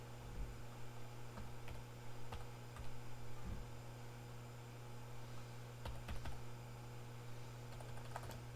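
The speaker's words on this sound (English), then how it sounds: "Let me type it in." Faint computer keyboard typing in a quiet room, scattered key taps and clicks over a steady low electrical hum and background hiss.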